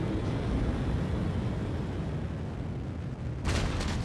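Battle mech weapons in MechWarrior 5 Mercenaries roar as a steady, dense barrage of heavy fire and rumbling blasts, loud and continuous, with a sharper burst near the end.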